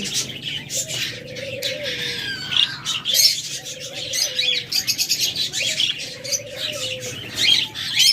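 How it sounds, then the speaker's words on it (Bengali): Close, bright bird chirps and chatter from a mutation-colour budgerigar pair, mixed with repeated low cooing and brief wing flaps. "এরপর আপনাদের বাজরিগা পাখি দেখাই, হিউজ পরিমাণ বাজরিগা পাখি রয়েছে।"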